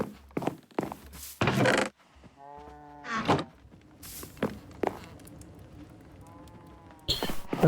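A Minecraft cow gives a few short, clear moos spaced among soft footsteps and thumps in a quiet game scene, with no talking.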